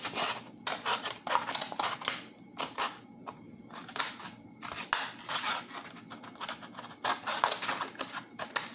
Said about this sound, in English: You keep cutting like this until you've got all the lines cut evenly.